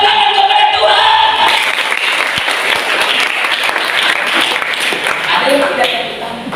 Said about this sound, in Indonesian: Mari kita bertepuk tangan kepada Tuhan